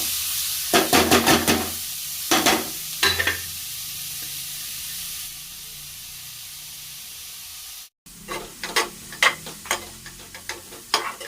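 Grated bottle gourd sizzles in hot ghee in a pan on low flame for halwa, a steady close hiss broken by repeated scraping stirs, louder bursts and a brief cut partway through.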